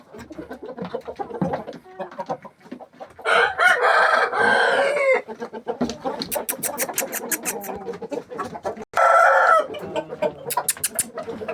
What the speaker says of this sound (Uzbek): Mana aka-ukalar bu 3-chi xo'rozimiz.